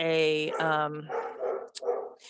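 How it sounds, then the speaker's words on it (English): A dog in a home gives a high, drawn-out bark or whine lasting about a second, then a person talks. "The dog, it's driving me nuts."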